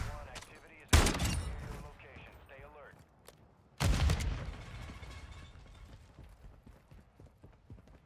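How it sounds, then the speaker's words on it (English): Shotgun blasts in a video game fight against bots, two loud sharp booms a few seconds apart, each trailing into mechanical clatter and fading echoes. "there's a shotgun I want. This thing is like really, really powerful against these bots"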